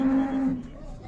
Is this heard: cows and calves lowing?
yes